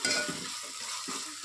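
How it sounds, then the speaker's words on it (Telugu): Ginger sizzles in hot oil in a pan for bagara rice, Telangana style, giving a steady frying hiss with a few soft stirring scrapes, close and with no talking. "1 టీ స్పూన్ అల్లం కూడా మంచిగా ఫ్రై అవ్వాలి"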